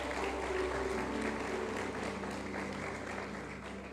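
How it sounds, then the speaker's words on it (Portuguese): A church congregation at a Sunday service claps together in praise, a fairly soft, steady patter of many hands with a low hum beneath and faint voices mixed in. "Você pode receber aplaudindo ao Senhor, irmãos."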